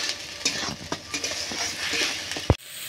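Onion paste frying in oil in a pan gives a steady close sizzle, with a few stirring scrapes and a sharp clank of a utensil near the end.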